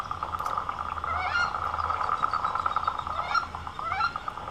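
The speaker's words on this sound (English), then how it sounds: "Yeah, listen, sounds like a wood duck." Bird calls, such as a wood duck's, rise and fall at a pond in a conservation area, repeated several times over a steady, dense chorus of frogs.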